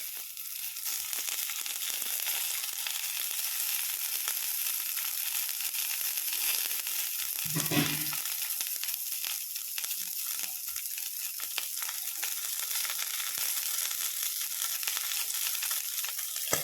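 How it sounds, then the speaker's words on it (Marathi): Sliced brinjal cooks in a hot wok for village-style brinjal bharit. A faint, steady sizzle holds for the full length, with a brief rustle partway through. "कढई गरम झालेली आहे हे वांगे मी याच्यात टाकते"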